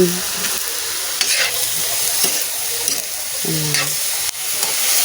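Eggplant being stirred as it fries in a pan, with a steady loud sizzle and repeated scraping strokes of the utensil throughout, no talking.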